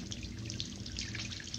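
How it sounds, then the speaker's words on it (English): Water running and dripping from a tap left on, a steady faint splashing patter with no voices in this short stretch. "I wonder why that egghead don't shut that water off."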